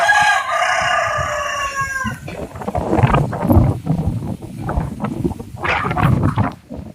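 A rooster crows loudly close by for about two seconds, followed by lower clucking and scuffling sounds from the fowl.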